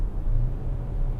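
A 2018 Hyundai Kona engine revs, heard from inside as a low, steady rumble for about a second.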